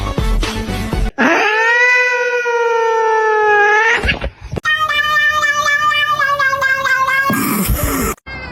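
Close, loud kitten meows: one long drawn-out wailing cry, then a second wavering, pulsing meow, with brief rustling noise between and around them.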